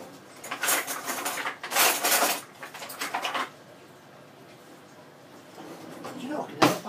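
Rummaging through a kitchen drawer of cutlery and pans for a fork, several loud clattering bursts of metal scraping and clinking, then a quieter stretch and a final clank.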